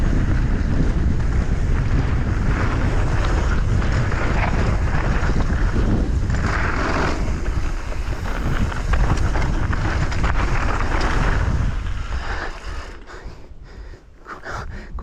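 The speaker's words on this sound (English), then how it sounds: "It is very windy today as well, which isn't helping." Strong gusting wind roars across the microphone on a red gully mountain bike trail, a loud continuous buffeting that eases slightly toward the end.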